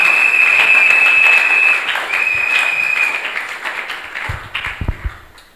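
Sunday worship service congregation applauding in a church, a dense, sustained wash of many hands clapping that thins toward the end into a few scattered, louder individual claps.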